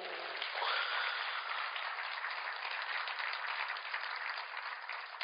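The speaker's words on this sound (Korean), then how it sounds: "박수." A church congregation applauding together, a dense, continuous wash of clapping that holds steady and fairly loud from start to finish with no voices over it.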